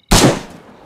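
One loud, close gunshot from the survival game DayZ, a sharp crack followed by a short decaying echo, with nothing else around it.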